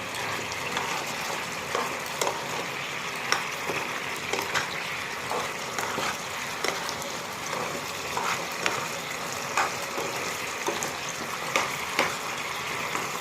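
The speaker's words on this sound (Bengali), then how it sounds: "চিকেন পকোড়াগুলো দিয়ে দিলাম, এখন একটু নাড়িয়ে দিই।" Chicken pakoras are stirred and tossed in sauce in a pan to make chicken 65, with a steady, wet bubbling and sizzling punctuated by soft, irregular spatula knocks and scrapes.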